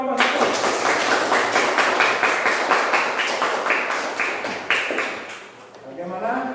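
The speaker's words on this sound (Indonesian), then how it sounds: "Ya, tepuk tangan dulu untuk kelompok 1." A fifth-grade class gives group 1 a round of applause after its presentation. The clapping is brisk and rhythmic and fills the room for several seconds, then thins out and fades as it ends.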